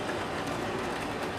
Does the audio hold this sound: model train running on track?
yes